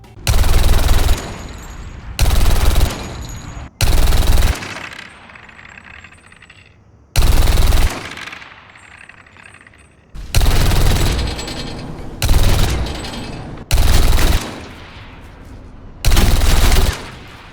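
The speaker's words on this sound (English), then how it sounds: "Specifically her bullet shells, which make a different sound depending on what type of material they land on." Bullet shells from a hero's weapon in the video game Overwatch land on different materials: bursts of rapid gunfire alternate with clusters of tinkling, clinking casings, loud and close, repeating about eight times with quieter gaps between.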